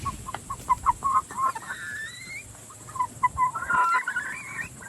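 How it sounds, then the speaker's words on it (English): A rooster clucks and murmurs in short, uneven bursts nearby, with a few drawn-out throaty notes among soft background noise. "but he's definitely a rooster."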